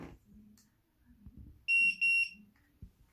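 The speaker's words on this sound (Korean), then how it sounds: "삐삐 소리가 났습니다. 지금 세팅을 하기 위해 준비가 됐다는 신호고요." Two loud electronic beeps in quick succession from a digital keypad door lock after its red setting button on the back is pressed, with faint handling noise and soft clicks before and after.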